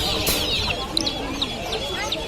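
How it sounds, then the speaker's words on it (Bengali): Desi hens with broods of chicks cluck softly at the Mirpur-1 bird market, high chick peeps scattered through a busy background hum, with people talking nearby. "8টা 10টা করে বাচ্চা সহ দেশি মুরগি আছে।"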